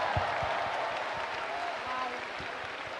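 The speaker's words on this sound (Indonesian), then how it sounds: "Tepuk tangan dulu dong guys." Concert audience applause during an MC segment of a JKT48 anniversary show, a steady crowd clapping with scattered louder claps and a voice talking over it.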